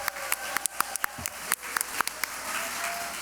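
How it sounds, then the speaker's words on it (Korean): Audience applause at a Korean long-term care policy debate, a steady broadband patter of many hands with sharp individual claps standing out, continuous and moderately loud throughout. "여러분 박수 한번 부탁드립니다."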